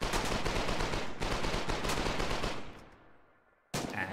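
Submachine gun fire in the online war game Foxhole, a dense rapid burst that rattles loud and close for a few seconds, fades, then cuts back in abruptly.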